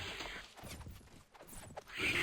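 Galloping horse hooves clatter in a rapid irregular rhythm, fairly close, amid the busy din of a Phantasy Calradia Warband mod battle, with a sharp noisy burst at the end.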